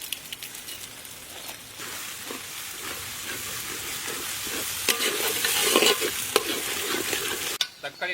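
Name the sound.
tomatoes with ginger garlic sautéing in pan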